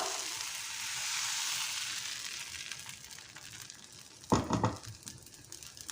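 Appam batter, about one and a half ladles, sizzles and fries steadily in a hot pan while it is swirled. A brief louder scraping, clattering burst comes near the end. No one speaks.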